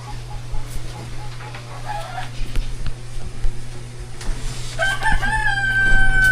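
Rooster crowing at a family home, its call rising above a steady low hum and scattered background noise, with a high whistling tone entering near the end.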